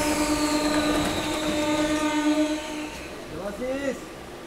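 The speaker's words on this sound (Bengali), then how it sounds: "ছেড়ে দিল আমাদের ট্রেনটা শালবনী স্টেশন থেকে" A MEMU passenger train pulls out of Salboni station on the Kharagpur–Purulia line, a steady rumble with a sustained tonal hum that fades midway, followed by brief voices near the end.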